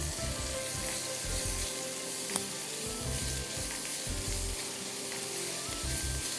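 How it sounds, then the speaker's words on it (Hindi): Continuous sizzling of chopped garlic, ginger and lemongrass frying in hot oil, crackling steadily with occasional stirring clatter in the background. "इसको हमें अच्छी तरह फ्राई करना है।"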